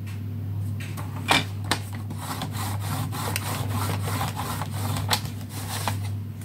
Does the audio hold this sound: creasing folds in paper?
yes